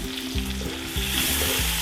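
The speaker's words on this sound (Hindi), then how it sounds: "अब मैं इसको हल्का हल्का सा फ्राई करूँगी। ये गए ऑयल में मेरे प्याज।" Sliced onions sizzle hard as they drop into hot oil in a pan for a mutton keema karahi, a loud, continuous frying hiss heard close up without voices.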